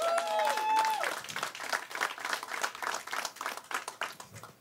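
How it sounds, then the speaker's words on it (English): A crowd claps and applauds steadily, fairly close, after a brief musical tone at the start, with a little chatter mixed in. "y'all give Hey Jay and Maria a round of applause, please."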